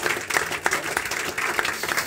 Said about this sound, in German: Ein kleiner Applaus, bitte.